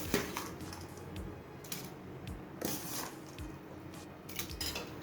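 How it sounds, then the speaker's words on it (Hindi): A utensil scrapes and knocks around inside a metal pot of washed rice in uneven strokes, close by, with soft clinks between stirs. "चावल डालने के बाद में एक बार ऐसे चला लेंगे कि चावल नीचे चिपकेंगे नहीं"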